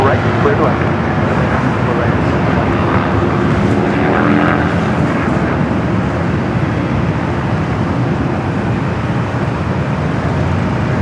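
An airliner lands on runway 24 Right at Los Angeles International Airport (LAX), making a loud, steady, broadband jet roar that fills the whole stretch without a break.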